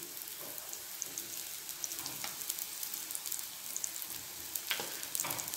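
Carrot and wheat flour dosa cooking in a little oil on a pan, giving a steady close sizzle and crackle with a few spattering pops throughout.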